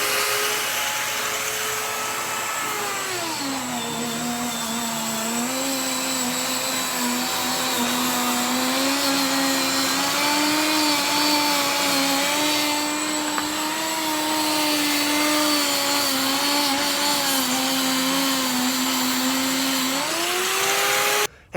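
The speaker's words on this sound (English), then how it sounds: "besides the Paint Shaver Pro, that's the main tool we're using" A Paint Shaver Pro power tool stripping paint from a house wall, a loud continuous motorized whine that dips in pitch as it bites into the surface, then holds steady for about twenty seconds.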